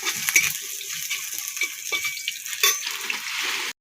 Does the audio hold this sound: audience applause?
no